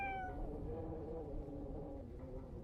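A cat lets out a single drawn-out meow near the start, fading into a low, rumbling background hum outdoors behind a building, faint overall.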